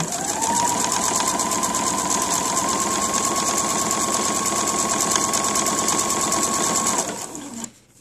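A sewing machine hems a dress in a fast, even run of close mechanical stitching that holds steady for about seven seconds, then winds down and stops, with no talking.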